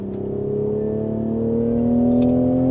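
A Toyota Supra Mk5 engine revs steadily and climbs in pitch, a smooth, loud mechanical drone building over a few seconds with no voices.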